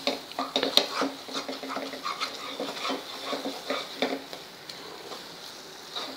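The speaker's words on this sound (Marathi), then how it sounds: "हे पण छान मिक्स करून घ्यायचं आहे मसाल्यात." Turmeric, asafoetida and cumin powder are stirred into a frying masala for a methi amti, a spoon scraping and tapping the pan over a low sizzle, close and irregular with no talking.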